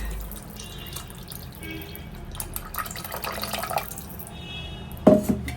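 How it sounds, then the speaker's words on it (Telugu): Tamarind juice is poured into a pan with a soft, steady trickle, ending with a brief clatter near the close. "తీసి పెట్టుకున్న చింతపండు రసాన్ని ఇందులో పోయాలి"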